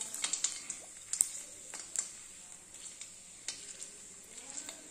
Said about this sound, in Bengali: দেখছো ফুচকা ভাজছি, গোল গোল গোল গোল ফুচকা হচ্ছে